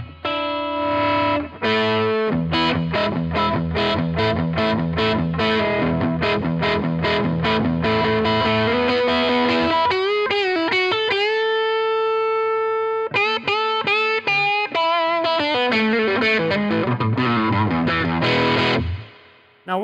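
An electric guitar runs through an Analog Alien Bucket Seat distortion pedal into a Fat Jimmy Fat Jac 15 amp, with loud crunchy chords and single-note runs, brief pauses and sustained ringing notes.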